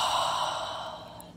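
A deep breath slowly released during a guided meditation, a single soft airy exhale up close that fades out over about a second.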